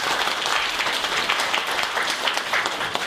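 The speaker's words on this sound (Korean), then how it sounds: "다시 한번 큰 박수 환영합니다" Church congregation applauding to welcome newcomers during a Sunday service in Suwon, a steady dense wash of clapping filling the room for a few seconds with no voices over it.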